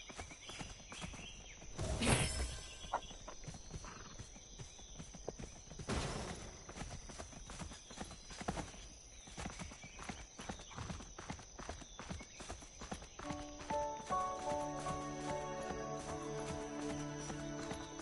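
Horse hooves clip-clop in a steady walking rhythm in the video game Seven Deadly Sins: Origin, amid game sound effects, with a couple of louder bursts and a tonal chime toward the end.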